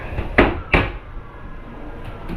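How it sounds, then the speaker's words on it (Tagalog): Cabinet drawer opening or closing in a cabinet set up at home after termite damage: two quick wooden knocks close together, followed by a quieter soft rattle. "Drawer, ayan yung drawer natin."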